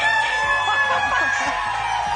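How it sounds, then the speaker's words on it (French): A rooster crows in a farmyard henhouse setting during a French television game show, the call blending with a busy background of crowd noise and music. "Le coq a chanté."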